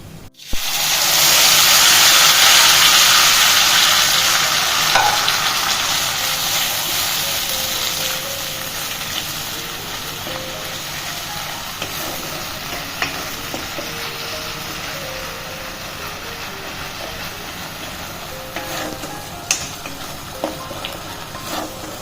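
Ginger, green chili and tomato paste hit hot oil in a pan with a sudden loud hiss that settles into a steady, gradually fading sizzle, broken by a few faint stirring clicks and no talking.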